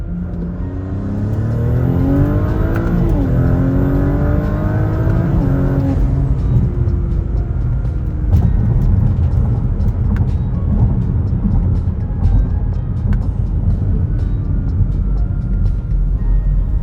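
A B9 Audi S4 engine revs hard through a fast gear shift, pitch climbing and dipping as the gear changes, then holding a steady loud drone close by with no talking.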